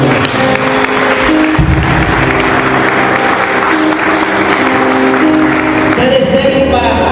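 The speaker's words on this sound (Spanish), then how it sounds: "Dale un fuerte aplauso al Señor." Church congregation claps loudly and continuously during a sermon, a dense sustained roar of applause with crowd noise and background music-like tones throughout.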